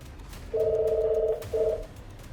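A telephone rings during a narrated horror story about a babysitter, giving one long electronic trilling ring and then a shorter second burst, clear and close over a quiet background.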